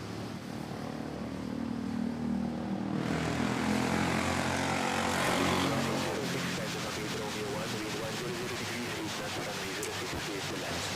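A propeller airplane at Manila Airport, loud and near, its engine drone rising and swelling, then continuing as a steady throbbing roar under faint radio talk.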